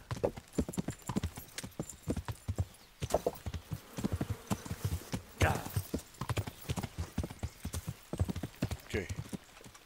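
Horse hooves clip-clop in a steady quick rhythm in the medieval video game Kingdom Come Deliverance, close and continuous, with a brief snort or whinny partway through and faint background ambience.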